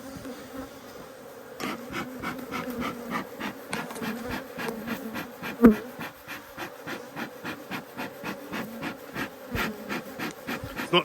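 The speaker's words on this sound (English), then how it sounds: "All of a sudden bees in the air." Dense, steady buzzing of many bees close by, with a constant droning hum and occasional louder passes near the microphone.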